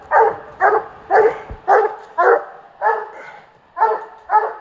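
A coonhound barking at a raccoon treed at night, eight loud, evenly spaced bawling barks close by in a steady rhythm, with no talking.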